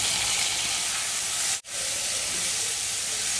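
Vegetables sizzle steadily in hot ghee with ginger-chilli paste, spices and curry leaves, a loud, continuous close-up hiss broken by one brief dropout midway.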